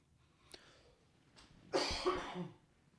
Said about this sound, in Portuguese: vou ficar tossindo aqui na cara da galera